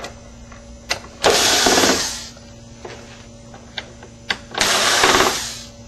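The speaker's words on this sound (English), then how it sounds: "So we need to remove the 4 screws." An electric screwdriver whirs in two loud, close bursts as it backs screws out of the chassis of a VIZIO P42HDTV10A television, with faint clicks and taps between the bursts and no talking.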